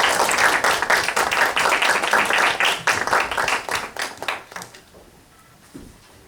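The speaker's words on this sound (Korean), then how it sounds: "나오실 때 큰 박수로 환영해 주시면 감사합니다." An audience at a Christian talk on mathematics and faith claps to welcome the speakers, a lively burst of individual hand claps that thins out and fades to near silence by the end.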